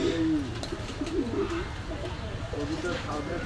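A male tulo pigeon coos nearby, repeated throaty rolling coos over a busy, noisy background.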